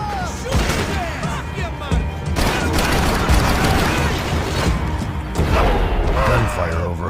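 Gunfire over Hoboken in the Max Payne 3 video game: loud, sustained bursts of shots and crashing impacts, with a voice narrating over the din.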